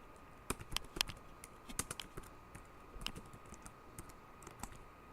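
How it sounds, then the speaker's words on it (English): Sharp, close keystrokes patter unevenly on a computer keyboard, scattered clicks with brief gaps over quiet room noise and no talking. "Maybe if I can type, that would help."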